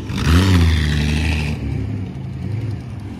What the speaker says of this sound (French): j'en profite quand même pour vous filmer ici pour que vous ayez les sons moteurs